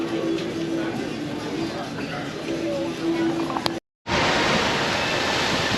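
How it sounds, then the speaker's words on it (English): Strong wind buffeting a microphone outdoors at Epcot ahead of a hurricane, a loud continuous roar that cuts out briefly and returns just as loud. "it's real windy"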